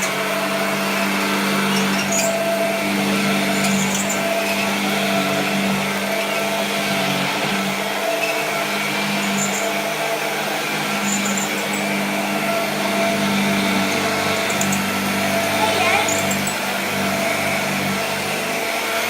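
A vintage Hoover Junior 375 vacuum cleaner, about 88 years old and recently rewired, runs continuously with a steady, loud motor whine and airy roar, close up and unbroken throughout.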